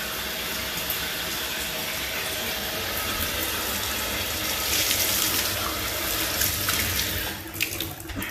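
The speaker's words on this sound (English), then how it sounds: "So I'm gonna flush again the shower and the tub." Water flushes across a plastic shower floor and tub as a steady, close hiss of running spray, with a few clattering knocks near the end.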